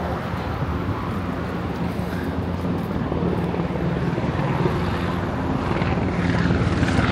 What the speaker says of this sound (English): Lots of helicopters around here in San Diego. Always flying around.